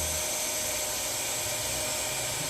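A solar-powered water pump motor on a farm PV system runs at rising speed as its output steadies, giving a steady high-pitched electric whine with a constant broadband hum underneath, fairly faint and unbroken throughout, with no voices.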